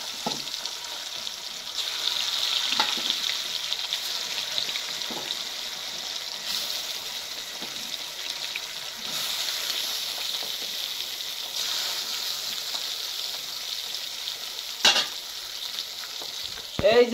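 Small fish fry rural-style in a village kitchen pan, making a loud, continuous sizzling hiss that runs unbroken, with a couple of sharp clattering knocks near the end.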